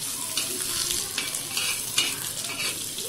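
A few peanuts are stirred and fried in a hot pan for a chili thecha, giving a close, continuous sizzle broken by repeated scraping strokes of the spoon, with no talking.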